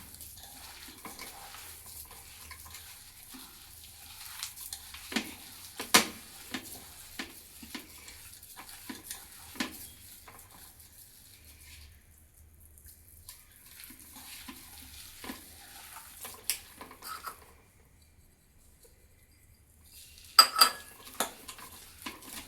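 Sabudana is mixed by hand with peanut powder, salt and chillies for sabudana mirchi bhaji. Sharp intermittent clicks and scrapes of utensil against bowl come at an irregular pace over a quiet background, with a pause before a final cluster.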